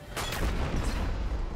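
Gunfire in the Destiny 2 Lightfall campaign comes as a few rapid, booming shots close together in a short burst, heavy and rumbling, with no voices.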